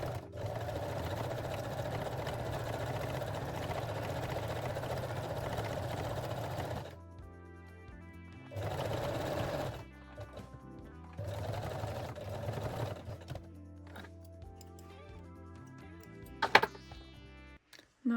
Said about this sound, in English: And sew all these 3 layers with a straight stitch.